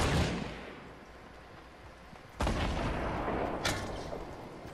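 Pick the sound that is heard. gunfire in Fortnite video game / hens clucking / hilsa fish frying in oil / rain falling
gunfire in Fortnite video game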